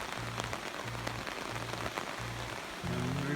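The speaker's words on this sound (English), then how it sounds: "Nice rainy day." Steady rain hiss on a rainy day near a river and railroad bridge, a dense even patter with a low rhythmic thumping beneath, no voices.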